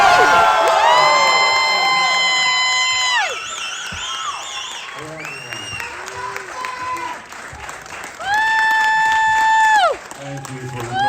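A festival audience at the Red Sea Film Festival in Jeddah applauds and cheers loudly for Nicolas Cage, with shrill whoops and shouts over steady clapping that dips and then surges again.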